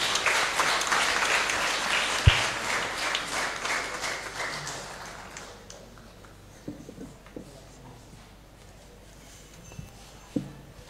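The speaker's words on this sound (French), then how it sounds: "On peut applaudir pour ces enfants" A church congregation at an Assumption Mass applauds for children, a broad burst of clapping that is loud at first and fades out after about five seconds, leaving a few scattered knocks and rustles.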